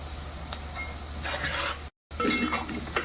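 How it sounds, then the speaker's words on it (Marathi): Turmeric sizzling briefly in hot oil in a pan, a moderate frying hiss with light stirring and a few utensil clinks, broken by a short cut of silence. "हळदीला जरा तेलात मारून घ्यायची"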